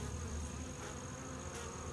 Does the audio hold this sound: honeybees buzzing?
yes